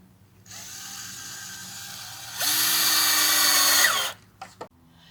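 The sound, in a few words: power drill driving screws into cedar fence boards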